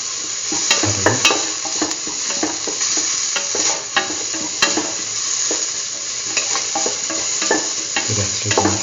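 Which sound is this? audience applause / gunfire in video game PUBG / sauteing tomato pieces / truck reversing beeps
sauteing tomato pieces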